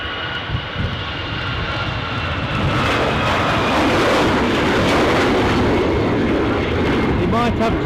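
An airliner takes off at Edinburgh Airport on a windy day, its engine noise rising from a low rumble into a loud, steady roar that dominates the scene.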